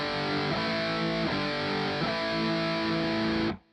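Distorted electric guitar plays an intro riff, a steady chugging pattern with sustained chords and rhythmic accents, loud and close, cutting off abruptly at the end.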